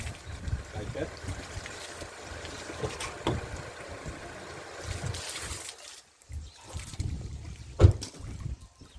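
Strong wind buffets the microphone in heavy low rumbling gusts, with a brief lull and a sharp knock near the end.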